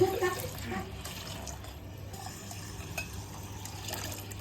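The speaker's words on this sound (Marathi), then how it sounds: "हो पाणी चालू झालं मित्रांनो, पाहू शकता." Water flows steadily from a tap or pipe at a household, a constant close-range rush with a low hum beneath and small fluctuations, no talking.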